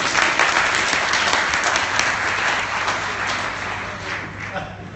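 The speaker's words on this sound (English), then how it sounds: "Give him a round of applause." Audience applause at a healthcare conference, a dense burst of clapping that gradually thins and fades with a few voices underneath.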